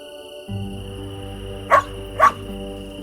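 Two short, sharp dog barks in a video game, about half a second apart, fairly close, over a steady electronic background hum.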